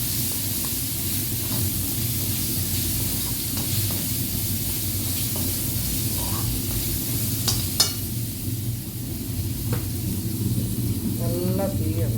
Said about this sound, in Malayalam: കടുക് പൊട്ടി വന്നപ്പോൾ നമ്മൾ ഇഞ്ചിയും വെളുത്തുള്ളിയും കൂടെ ചതച്ച് നമുക്കിടുകയാണ്.